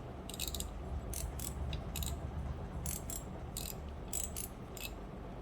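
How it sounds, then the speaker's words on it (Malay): Rapid ratcheting clicks come in repeated short bursts from the drag clicker of a Seahawk Lite Pro SW spinning reel, set against a constant low hum. "Ini bunyi clicker."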